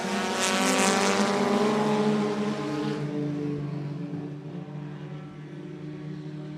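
Dwarf cars racing at a speedway, coming out of the fourth turn at the start of a race, give a loud, steady engine roar that fades slightly as the pack moves away, with no talk over it.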